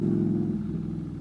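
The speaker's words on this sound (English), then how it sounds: "they have like these really loud exhausts on their car and they're like racing around the retail park" A car with a loud aftermarket exhaust revving around a Glasgow retail park in the evening, a low throaty engine drone heard from nearby, steady and fading slightly.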